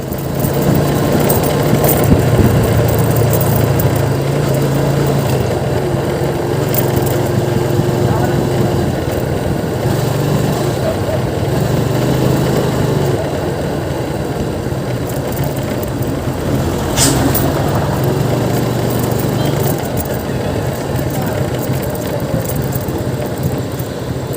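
A motorcycle engine runs steadily on a rural ride near Timberland, San Mateo, Rizal, a continuous mid-pitched drone with slight throttle changes and wind, close and loud, with occasional voices.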